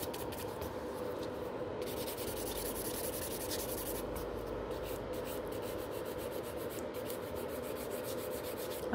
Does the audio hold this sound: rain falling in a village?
no